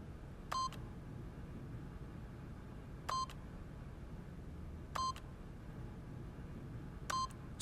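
Four short keypad-style beeps with long pauses between them ring out clearly as a code is punched into a door keypad in The Stanley Parable video game, over a quiet, steady background hum.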